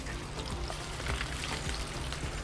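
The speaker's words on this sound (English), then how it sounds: "As long as we're bubbling and boiling, we're cooking." Chicken wings deep fry in oil on a griddle, giving a dense, steady sizzle and crackle of bubbling oil, loud and continuous throughout.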